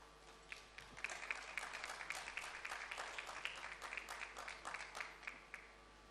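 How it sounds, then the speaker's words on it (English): Applause from an audience at a World Economic Forum plenary session, steady clapping that swells and holds for several seconds before tapering off, heard at a moderate distance. "A big round of applause"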